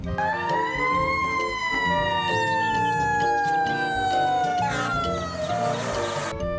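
A toy fire tanker truck's wailing siren sweeps slowly downward in a long continuous tone, loud and close, with a clacking mechanical noise joining near the end.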